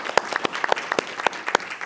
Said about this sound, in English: So once again, big applause for all of them.